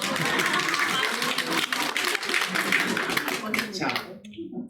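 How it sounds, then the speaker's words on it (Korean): A congregation applauds during a Sunday church service at Silicon Valley Shalom Church, with dense, steady clapping that fills the room for about four seconds and then stops abruptly. "박수"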